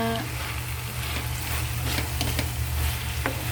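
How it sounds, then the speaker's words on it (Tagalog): Food stirred in a frying pan during home dinner cooking, with a steady sizzle, scattered scraping clicks from the utensil, and a low hum underneath, no voices. "Haluin din tong kabila."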